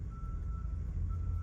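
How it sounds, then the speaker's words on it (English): Faint, distant reversing beeps from a construction truck across the street, a thin steady tone sounding in pulses over low background rumble, with no one speaking. "I apologize for the beeping in the background."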